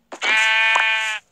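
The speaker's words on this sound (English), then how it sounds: "Okay, that's one sheep." Sheep in a video game gives a single loud, close bleat lasting about a second, alone with no talk.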